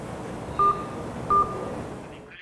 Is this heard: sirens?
no